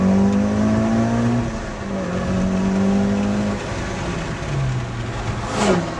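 A car revving hard under wide-open throttle during an air-fuel ratio test, its engine note climbing and shifting in a continuous loud drone with a brief sweeping whine near the end, no talking.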